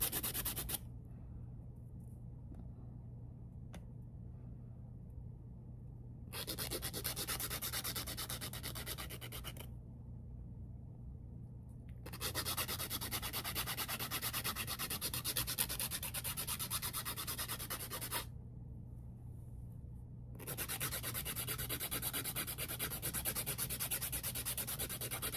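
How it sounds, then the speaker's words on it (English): An old nail file rasps side to side across acrylic overlay nails in long, steady strokes, coming in three close, sustained bursts separated by quiet pauses. "I'm just filing sidewall to sidewall to get them as smooth as I can"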